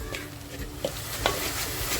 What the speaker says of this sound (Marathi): तर बघा आपला मसाला हलकासा फ्राय होत आला आहे